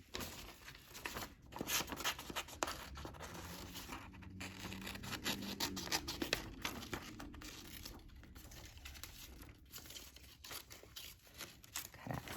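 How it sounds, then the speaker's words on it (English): Scissors snipping and crinkling paper while cutting around two eye holes for a paper animal hat, with the sheet being turned; close, irregular rustling cuts continue throughout. "turn my paper as I cut so I could get it cut all the way around"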